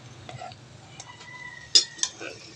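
Cooked rice, already seasoned with pepper, tumbles into a pan for Filipino garlic fried rice, with soft scrapes and a couple of sharp clinks of a utensil against the metal near the end.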